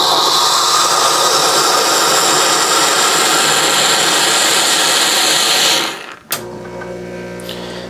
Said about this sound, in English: So to access water on your espresso machine, just choose a knob here and just turn it.